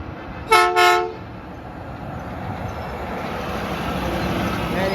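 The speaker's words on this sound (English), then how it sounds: "And he honked again." A train horn gives two short, loud toots near the start, then fades into a steady rumble of the passing train and background noise.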